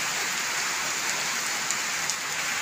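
Rain falls steadily on a village homestead, a dense even hiss of drops on surfaces with a few faint distinct drips, continuous and close.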